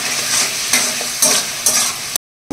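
Cut vegetables are stir-fried in a pan, giving a loud continuous sizzle with repeated scraping stir strokes, then a brief silence before the frying resumes.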